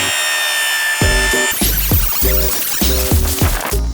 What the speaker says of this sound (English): To cut the Tuftex, we simply reverse the blade in our circular saw, and it cuts through really smoothly